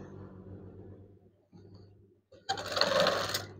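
Sewing machine stitching a folded curtain hem, a short close burst of motor whir and needle clatter near the end, after quieter handling noises and brief pauses.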